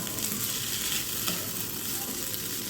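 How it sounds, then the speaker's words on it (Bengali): Fried rice crackles loudly in a hot pan as it is tossed and stirred without pause, a dense close-up sizzle with scraping underneath. "তো এখন আমি ভাত দিয়ে দিব, যে যতটুকু পরিমাণ খান ওই পরিমাণ মতোই দিয়ে দিবেন। এরপর আমি একটু নেড়ে চেড়ে"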